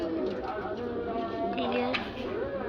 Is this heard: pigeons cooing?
yes